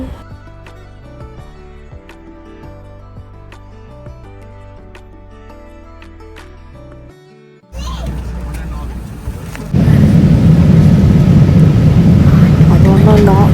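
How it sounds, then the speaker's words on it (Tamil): Qatar Airways airliner taking off, heard from the cabin: after quiet music, a broad engine roar starts, then jumps sharply louder and holds as a powerful steady rumble. "So we are taking off again."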